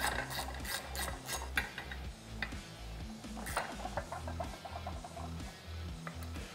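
A ratchet tightens screws on a Polaris General clutch during a Rev1 clutch kit install, giving rapid, repeated clicking strokes up close in an otherwise quiet workshop, with no speech.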